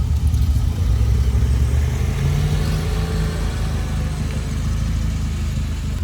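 BMW i8 Roadster pulling away at a car meet, a steady mid-pitched engine note rising slightly over continuous low rumble, close and fairly loud throughout with no talk.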